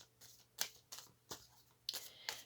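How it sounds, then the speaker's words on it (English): Tarot cards being shuffled by hand in short crisp riffling bursts, about six quick rustles spaced irregularly, close and fairly quiet with no talk. "I'm going to go ahead and shuffle the tarot"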